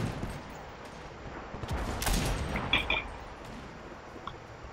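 Gunfire in the World War II shooter game Enlisted during a Tunisia campaign battle, scattered distant shots and a brief burst in the middle, faint against game ambience.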